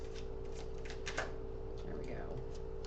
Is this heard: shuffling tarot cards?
yes